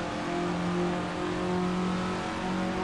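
A Formula Ford Russel-Alexis Mk14 in Assetto Corsa drones along at high revs, its engine note holding a steady, loud tone for about three seconds with no shifts and no voices.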